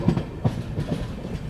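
The Malwa Express rolls from the main line onto a loop line, its wheels striking rail joints and points in a quick, rhythmic clickety-clack, heard moderately close.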